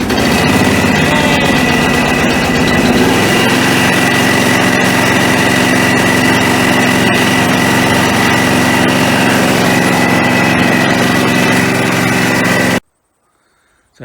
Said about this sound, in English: Good luck, little ATV.